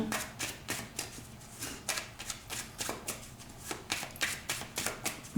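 Tarot cards shuffled for a card reading, a rapid regular run of crisp riffling bursts, close and fairly quiet, with no talking.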